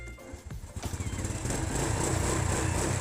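A used Honda Wave 100 motorcycle engine catches after a brief quiet moment, then runs in a steady close putter that grows slightly louder and holds. A voice may be faintly present underneath.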